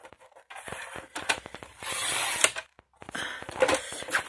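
Paper is cut to size for a panda pop-up card on a sliding paper trimmer, with ratcheting clicks, a long rasping slide of the blade and more scraping after a brief pause.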